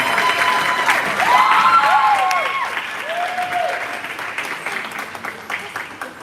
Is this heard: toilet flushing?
no